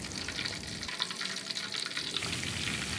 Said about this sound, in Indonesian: Goreng semua pada adonan tersisa dengan cara yang sama.